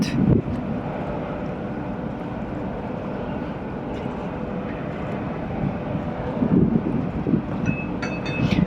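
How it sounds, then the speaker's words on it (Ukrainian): A large cruise liner's engines run astern while the ship reverses in a port on the Adriatic Sea, giving a steady, loud low rumble throughout with a few brief louder swells and no talking. "Зараз лайнер починає давати задній ход."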